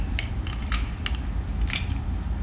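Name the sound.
polishing metal cooking spoons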